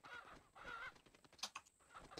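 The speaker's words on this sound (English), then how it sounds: "Why are there so many chickens?" Chickens cluck in short, close bursts in the horror video game Pacify, a brief stretch of bird calls with no talk over them.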